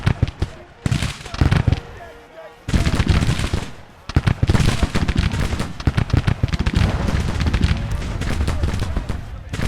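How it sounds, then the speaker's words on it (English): Cannon and rifle fire from a battle in the American Civil War video game Grand Tactician: The Civil War, with 6-pounder Napoleon guns in action: dense, loud crackling volleys and heavy booms roll on almost without pause. "We're gonna stop here so we can shoot at the enemy."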